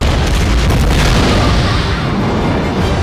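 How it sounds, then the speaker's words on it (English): A massive movie explosion from The Expendables (2010), a loud, dense roaring boom that fills the whole clip with sustained rumbling and debris, lasting about three seconds. "That is a sick explosion."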